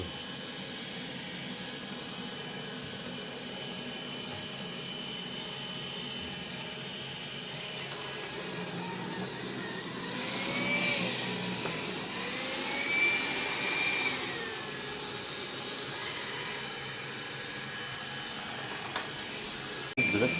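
A Dreame F9 robot vacuum mop runs with a steady whirring motor drone that rises in pitch and intensity as it switches to turbo mode, with people talking nearby.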